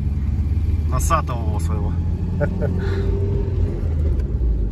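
A vehicle engine rumbles steadily as it drives along a road through Vytegra, with a low, continuous drone under brief talk from people inside.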